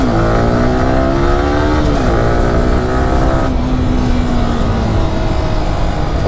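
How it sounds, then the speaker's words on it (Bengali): A Yamaha R15 v3 sports motorcycle engine drones loudly and close, its pitch rising and settling through several throttle changes in a continuous run without speech. "আর সাউন্ড, এই যে সাউন্ডটা ভাই, মানে সুপার বাইকের একটা ফিল দেয় না?"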